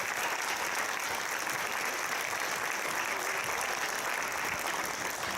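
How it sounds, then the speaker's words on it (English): A school promenade audience applauds steadily, a dense wash of many hands clapping at an even level throughout with no talk heard. "Give them one round of applause."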